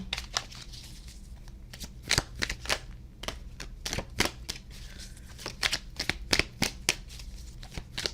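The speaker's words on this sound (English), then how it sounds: "let's go ahead and start laying your cards out" Tarot and oracle cards are shuffled in quick, crisp riffles and snaps, a rapid irregular run of sharp close clicks lasting the whole stretch.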